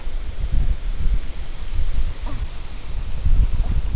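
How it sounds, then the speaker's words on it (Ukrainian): Steady gusty wind of a violent storm rumbles across an outdoor microphone while fishing, a low continuous roar with slight rustling, loudness rising and falling throughout. "Якийсь холодний вітер прийшов."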